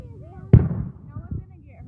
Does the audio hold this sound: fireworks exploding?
yes